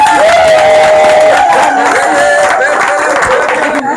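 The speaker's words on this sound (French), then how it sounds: "Acclamez très fort." A loud crowd at a first wedding anniversary celebration cheers and applauds close by, with whoops and shouts over dense clapping that fades slightly toward the end.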